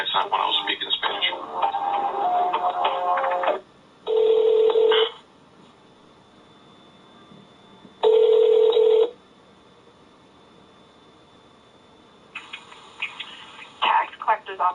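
A telephone call to a tax collector's office, with two long ringback tones about four seconds apart, each close and loud over the line. A recorded voice speaks before the rings, and faint line noise fills the gaps.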